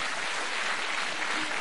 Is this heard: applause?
yes